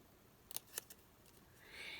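Scissors snipping through paper trim for a pocket letter craft, a few quick crisp snips close by in an otherwise quiet room, followed by a soft rustle.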